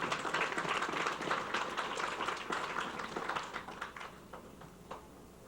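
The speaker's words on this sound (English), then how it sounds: "A round of applause for these graduates." Applause for graduates at a university commencement ceremony, a crowd clapping in a dense, lively burst that gradually thins into scattered individual claps and fades toward the end.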